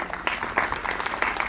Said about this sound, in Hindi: एक बार जोरदार तालियां हो जाए प्लीज